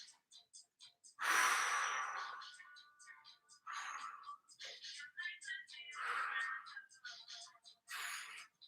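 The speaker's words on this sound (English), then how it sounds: "4 deep breaths." Deep, loud breaths taken during a home strength workout, several long inhales and exhales in a slow rhythm, with short voiced bursts between them.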